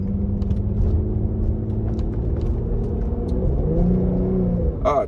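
A Ford Mustang's V6 engine rumbles and revs up as the car accelerates, the pitch climbing steadily, heard from inside the cabin with no talking.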